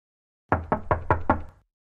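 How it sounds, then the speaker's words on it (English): A quick series of five evenly spaced knocks on a door, close and crisp, with nothing else heard. "Wait a second, is there someone knocking the door?"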